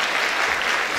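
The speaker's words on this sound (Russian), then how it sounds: "вот они сейчас уходят, аплодируют, тебе аплодируют" An audience applauds a saxophone quartet as the players leave, a steady dense clapping that fills the whole second at close range with no voices.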